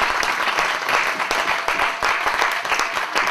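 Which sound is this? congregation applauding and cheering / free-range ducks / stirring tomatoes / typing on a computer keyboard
congregation applauding and cheering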